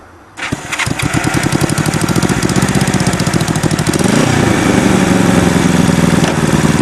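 The engine of a motorcycle-powered go-kart on gravel catches and revs hard, a loud, close, buzzing engine note with fast regular firing pulses that climbs in pitch and holds high.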